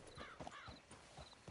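Horse hooves clip-clopping in a video game, a quick run of light, close hoofbeats with a faint whinny-like tone over them.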